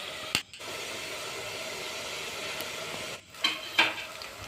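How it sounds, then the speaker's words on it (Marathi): Masala sautéing in oil for Puneri misal, a steady close sizzle interrupted by brief breaks and sharp clinks of a spoon against the pan, no speech. "छान तेल सुटेपर्यंत परतायचा"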